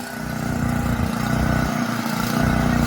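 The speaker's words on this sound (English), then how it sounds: "We've got the generator fired up so the boys can cut the tiles." Petrol generator running on a building site in the Philippines: a loud, continuous mid-pitched engine drone with a steady rhythmic throb and no talking.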